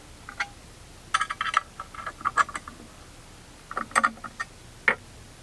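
Parts of a homemade overhead camera rig being tightened by hand, clusters of small sharp clicks and ticks in irregular bursts, close and moderately loud with quiet gaps between, no talking.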